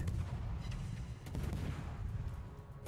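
Naval gunfire from the World of Warships video game during a ranked battle, a steady rumble of heavy, booming salvos layered over one another for a few seconds, fairly loud and with no voices.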